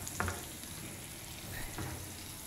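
Garlic, cumin and curry leaves sizzle in hot oil for a kadhi pakora tadka, a steady close frying hiss with a couple of brief sharper crackles and stirring sounds.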